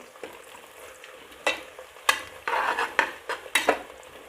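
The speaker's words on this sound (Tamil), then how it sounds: "இப்போ எல்லாம் வெங்காயம் நல்லா வதங்கிட்டு இருக்குது." Onions and green chillies sizzle and sauté in a pan while a utensil stirs and scrapes, producing irregular clatters over a constant soft frying hiss.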